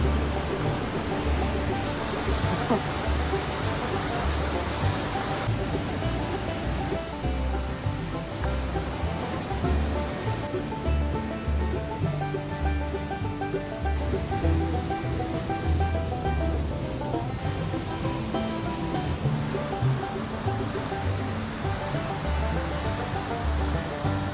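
Chae Son waterfall in Chae Son National Park, Lampang, Thailand, gives a steady, dense rushing roar of falling water that stays even and unbroken throughout, with no voices.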